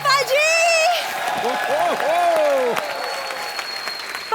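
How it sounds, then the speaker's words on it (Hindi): A studio audience of a television comedy show applauds steadily and fairly loud, with sustained clapping under voices, whooping and stage sound effects. "जोरदार तालियां सिद्धू पाजी के लिए"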